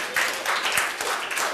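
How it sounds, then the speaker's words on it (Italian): Audience at a youth sports event cheering for Pescara breaks into applause, a dense, steady wash of clapping that holds loud for the whole short stretch without any voices standing out. "ci vuole un applauso qui, bravi"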